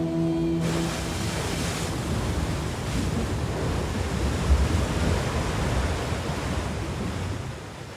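Khone Phapheng waterfalls on the Mekong River in the far south of Laos, the largest falls in Southeast Asia, give a steady, dense roar that stays loud and unbroken throughout, with no voices.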